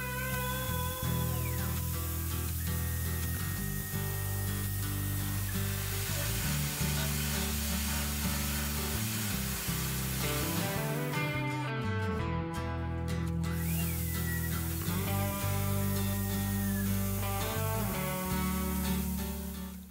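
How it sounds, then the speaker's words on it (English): A ball end mill cuts chamfers on a bayonet fitting for a Remington 870 on a Micro Arc 4th-axis milling setup, making a steady, continuous machining whine with shifting tonal pitches across the whole span. "we'll be using a ball end mill cutter to cut in these chamfers"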